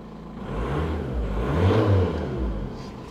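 A Seat Altea's freshly rebuilt engine revs up in a muffled, mid-pitched swell that peaks midway and eases back to a steady idle-like hum, with no talking over it.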